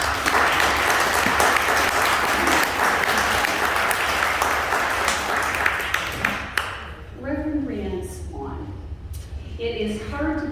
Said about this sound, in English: and let's all give a round of applause.